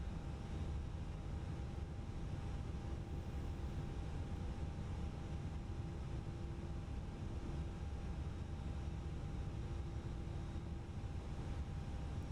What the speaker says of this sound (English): It's just that wind noise, like the vent noise that you hear inside the plane is,